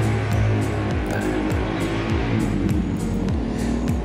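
Loud, close engine revving from a Vespa scooter with a Japanese carburetor, set up for everyday touring, the pitch climbing repeatedly in quick rising sweeps with a buzzing exhaust note and no talk.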